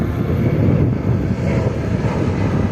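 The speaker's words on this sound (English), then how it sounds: "Seeing the planes come in." Airplanes coming in to land over Washington, DC, heard as a steady, continuous low engine roar that stays loud and close throughout, with no talking.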